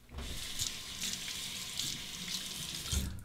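Tap water runs steadily into a sink while a razor is rinsed during a wet shave with a Muhle R89, giving a close, continuous hiss and splash with small fluctuations.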